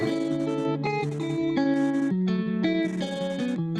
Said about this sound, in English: that's where we're going to have this kind of extended, really pretty arpeggio.